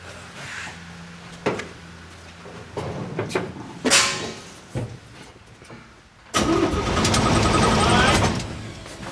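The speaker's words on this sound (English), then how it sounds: "Go ahead and crank it off." A 1949 Chevy engine cranks in a shop after a few scattered knocks and clunks, with a louder steady churning of the starter lasting several seconds at the end. Nearby voices talk over the quieter start.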